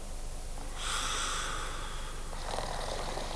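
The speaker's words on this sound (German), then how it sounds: "Schnarchen, ein wachsendes Problem." A person snores steadily in a quiet room, with a long raspy breath near the start and a second rough snore toward the end over constant background hiss; no talking.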